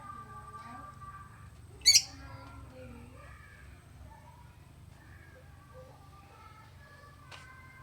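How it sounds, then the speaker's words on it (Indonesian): Caged pet birds in a village neighbourhood in Tanjungpinang give one sharp, loud squawk and scattered chirps and tweets over a low background hum, with a brief second call near the end. "Ini pelihara burung."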